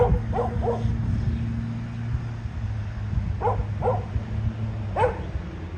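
A dog barks in short bursts, three quick barks, then a pause, then a few more, over a low rumbling background.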